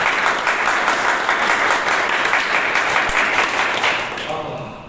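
Louder applause from a church congregation, a dense and sustained wash of many hands clapping that tapers slightly near the end, with faint speech mixed in.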